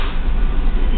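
Low heavy rumble of a loaded Union Pacific rock train rolling past, a dense continuous roar with deep bass, loud and close, with no clear rhythm.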